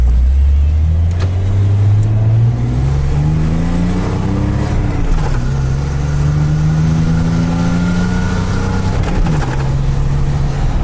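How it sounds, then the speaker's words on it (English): A hot rod car drones loudly from inside while driving, its engine note climbing through gears with smooth rises and a brief dip between shifts, the exhaust rumble steady throughout and no talking. "And hear the exhaust."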